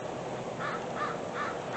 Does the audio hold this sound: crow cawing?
yes